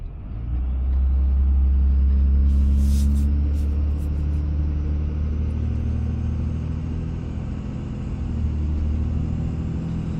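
A Dodge Ram truck with a 5.9 Cummins diesel climbing a snowy West Virginia mountain pass, its deep engine rumble loud and steady throughout, swelling slightly as it pulls uphill.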